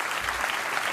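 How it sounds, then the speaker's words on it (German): Studio audience applause on a television talk show, a short, moderately quiet wash of clapping lasting under a second. "Applaus, Applaus!"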